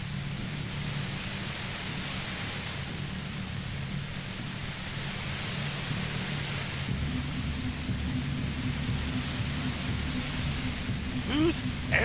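Steady hiss of broad white noise from the video game Disco Elysium, constant and fairly quiet for the whole stretch, with a low hum underneath and a brief higher whistle near the close.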